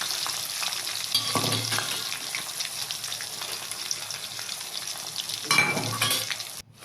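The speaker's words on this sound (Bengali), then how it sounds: "একে একে পেঁয়াজ কুচি, পেঁয়াজ রসুন গ্রেট করা যেগুলো ছিল, আদা গ্রেট করা, ওগুলো এর মধ্যে দিয়ে দেবো।" Chopped onion, grated garlic and ginger sizzling in hot oil with cumin and bay leaf, a steady loud frying hiss with a couple of brief stirring scrapes, no voices.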